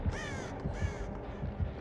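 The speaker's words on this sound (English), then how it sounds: "Shut up, birds." Crows caw repeatedly in the video game Dead by Daylight, several sharp, close calls in quick succession over a low ambient background.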